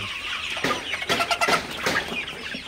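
Sonali super hybrid chickens clucking softly while drinking fresh water at midday, several short bursts of clucks close by over a quiet background.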